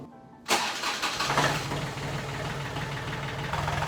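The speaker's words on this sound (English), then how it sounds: "let me start up the tractor and show you what that looks like" A Kubota L2550 tractor's diesel engine cranks and catches abruptly, then settles into a steady, rumbling idle with a rhythmic knock.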